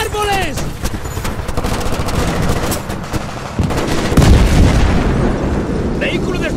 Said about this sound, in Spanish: ¡Disparos de la izquierda!